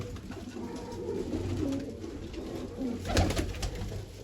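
Pigeons being put into a net coo softly and repeatedly at close range over a quiet background, with a louder burst of cooing toward the end.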